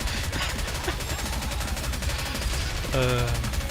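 Dense, continuous game gunfire from the shooter Nikke, a steady rattle of rapid shots filling the clip at close range, with a brighter tonal burst near the end and some talk mixed in.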